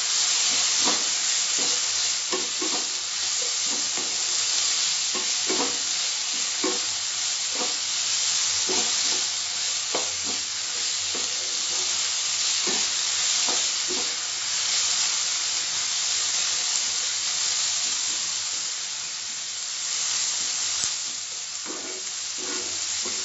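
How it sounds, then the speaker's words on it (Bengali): Capsicum pieces are stir-fried with mushrooms over medium heat: a steady sizzle runs throughout, broken by regular scraping and tossing strokes of a spatula in the pan. "এবার আমি ক্যাপসিকামের টুকরোগুলো দিয়ে দিলাম, ভালো করে মিশিয়ে নেব।"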